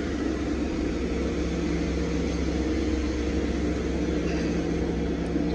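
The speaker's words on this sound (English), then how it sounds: "A couple loaders going." Wheel loaders working at a log boom, heard as a steady, dense engine rumble and broadband drone from a distance, continuous and unbroken throughout with no talk.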